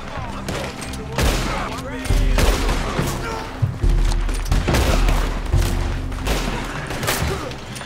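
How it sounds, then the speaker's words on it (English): Outlaws fire on players in Red Dead Redemption 2 Online, a dense fusillade of gunshots near and far over several seconds, with game music and low voices underneath. "They're shooting at us already."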